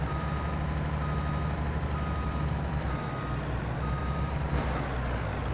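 A truck's reversing alarm in Farming Simulator 22 beeps in a steady repeating rhythm over a loud, continuous engine rumble, with no talk.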